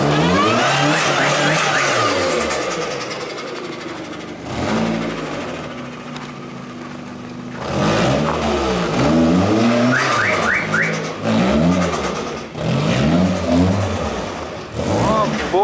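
Toyota Caldina with swapped engine, running on summer tyres in winter and missing windows and doors, drives and drifts sideways, engine revving up and down loudly and repeatedly in a close, continuous take.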